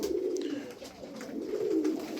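Pigeons sold as fancy game birds at an overnight auction coo in low, rolling phrases, with two swelling bouts of cooing close by over a steady murmur of background noise.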